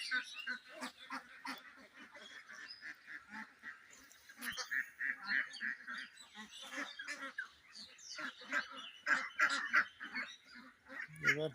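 A flock of farm ducks returning to their shelter at evening, with dense, overlapping quacking and honking that carries steadily throughout at moderate volume.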